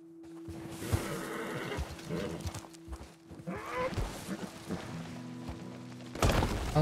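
Horse in the video game Red Dead Online, a couple of whinnies and snorts with scattered hoof thuds, close and fairly loud amid game sounds.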